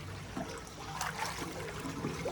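Water draining out of a dirty household water tank being cleaned, a soft continuous trickle and gurgle, moderately near, with no talk over it.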